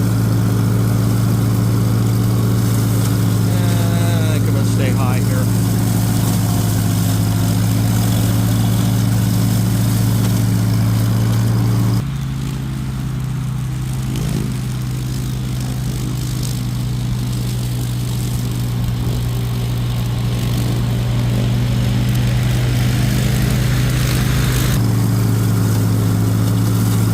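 A lawn mower engine drones steadily and loudly at close range through the whole stretch while mowing beside a creek, its pitch dipping slightly midway and then returning.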